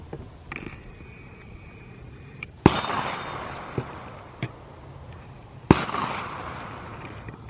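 Two sharp, loud rifle shots ring out a few seconds apart at an outdoor range, each followed by a brief echoing decay, with faint clicks and clatter of handling between them.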